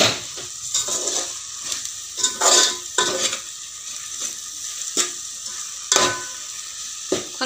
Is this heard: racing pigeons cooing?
no